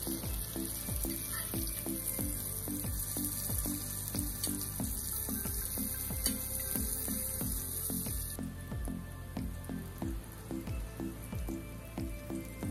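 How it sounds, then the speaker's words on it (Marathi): Fish fillets fry in hot oil in a home kitchen for a spicy fish thali, crisping with a dense, steady sizzle and scattered popping crackles, close and moderately loud, with no speech. "मच्छी आता चांगलीपैकी फ्राय झाले."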